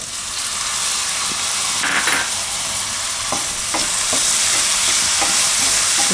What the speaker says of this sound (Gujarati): તો ડુંગળી લસણ થોડીક વાર આ રીતે પકાવી લીધું છે આપણે